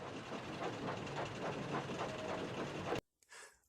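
An orange steam engine puffing out of a station, a steady rumbling chuff with hiss that holds loud and close for about three seconds, then cuts off sharply, leaving a brief fainter burst.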